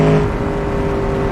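Powerful engine in a BeamNG car, a loud, steady mechanical roar with a sustained droning tone, close and continuous throughout.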